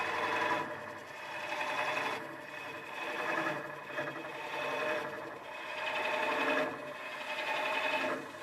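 A woodturning hollowing tool, a Woodcut Pro-Forme, cuts steadily inside a hollow form vase spinning on a lathe, giving a continuous close scraping hiss that swells and eases in slow waves as each cut is made.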